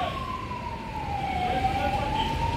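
Ambulance siren during a fire service rescue drill, one clear wailing tone that slides slowly downward and then back up, moderately loud over a rumbling background.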